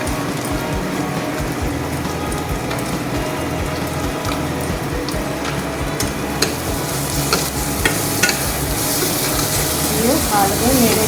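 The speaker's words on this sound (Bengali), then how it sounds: "ভালো করে নেড়ে ছেড়ে কষিয়ে নেব" A spatula stirs spices with hilsa fish frying in a pan, steady oily sizzle under repeated scraping strokes, close and fairly loud, with a few sharper clicks near the end.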